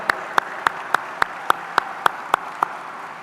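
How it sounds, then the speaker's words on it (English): University convocation audience claps in unison, about ten crisp, evenly spaced beats at a brisk steady tempo over a quiet background. "Let's give them a big round of applause, ladies and gentlemen."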